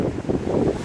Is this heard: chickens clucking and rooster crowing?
no